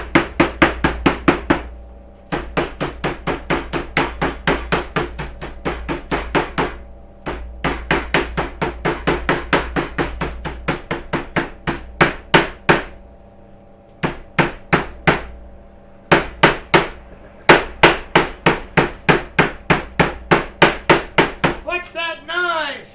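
Veal cutlets pounded flat for veal parmesan, a long run of loud, close, rapid regular thuds in bursts with brief pauses between them.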